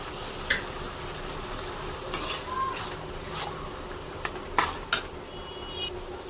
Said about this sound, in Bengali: লঙ্কা টমাটো পেঁয়াজ বেটে দিলাম এই ভালো করে মশলাটা কষিয়ে নেব